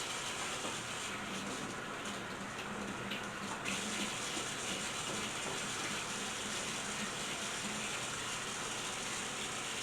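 Kitchen tap running steadily to wash parsley, an unbroken, close hiss of flowing water at even loudness throughout.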